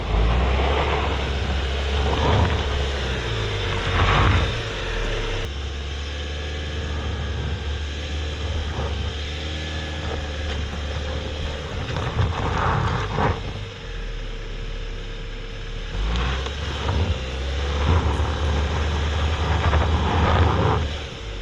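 A 2024 Jeep Compass Trailhawk crawling off-road, its engine droning and revving steadily throughout with wheels slipping on loose ground and broadband rumble from the tyres, loud and close, with no talking.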